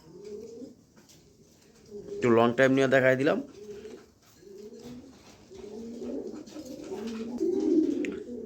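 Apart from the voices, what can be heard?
pigeons cooing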